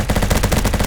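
Rapid automatic fire from an XK416 rifle in the video game Bad Business, a loud, dense stream of evenly spaced shots filling the whole stretch.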